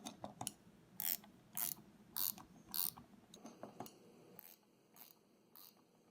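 A 10mm wrench ratchets on a Titan brand brake line double-flare tool, giving four loud bursts of rapid clicking, then a quieter stretch of lighter clicks and three more short ratchet bursts, close by with no talk.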